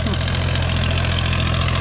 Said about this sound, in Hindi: अरे बाबा आप ट्रैक्टर चला रहे हैं कि उड़ा रहे हैं?